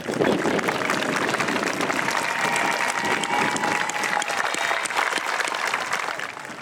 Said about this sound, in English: join me in a round of applause for your family and friends that have gathered with us here today